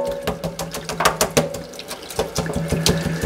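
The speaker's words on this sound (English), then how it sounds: "We'll give it a little rinse here." Running tap water splashes over a brass bristle paintbrush being rinsed at a sink, a steady close wash broken by irregular spattering bursts as the brush moves through the stream.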